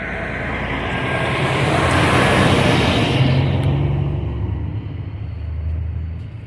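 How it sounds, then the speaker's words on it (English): A big truck drives past on a country road, a loud broadband rumble that swells as it nears, holds, then fades away, with no voices. "Got a big old truck coming our way."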